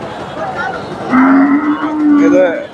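A Friesian cross dairy cow lets out a long, loud low moo close by, rising then holding steady, over faint farmyard background noise.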